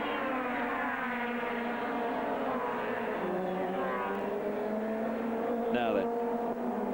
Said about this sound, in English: Sachsenring seeing a real feast of touring car racing.